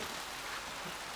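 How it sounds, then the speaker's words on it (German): Rain falls on a balcony with flowers, a steady, even hiss of drops spread across the whole moment with no voices over it. "Es regnet."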